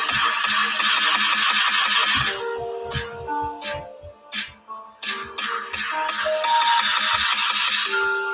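A phone ringtone for an incoming call plays a loud melodic tone pattern that rises, dips briefly in the middle, then swells again across about eight seconds, with no talking.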